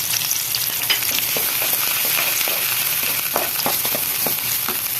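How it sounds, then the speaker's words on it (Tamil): Large onions drop into hot oil in a pan while making a pepper egg gravy with capsicum, giving a loud, dense, continuous sizzle with scattered crackles and spits and no talking. "எண்ணெய் காஞ்சிடுச்சு வெங்காயம் போட்டலாம்"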